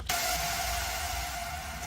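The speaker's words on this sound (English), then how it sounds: "we have this little effects laser here." Synth laser effect stab in a retrowave production, a bright noisy burst with a steady high tone, starting sharply and sustaining at moderate level before easing off, with no voices.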